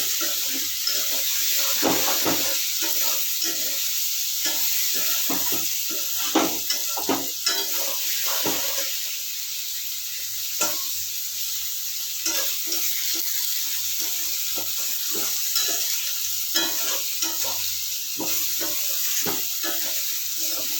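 Coriander powder and other spices are stirred and fried in a pan for an ash gourd and hilsa fish curry: a continuous bright sizzle broken by frequent quick scrapes and taps of the spoon.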